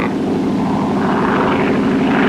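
Engines of C-47 transport planes drone loud and steady in 1940s wartime footage from Bougainville, a dense, continuous propeller roar filling the whole stretch without voices.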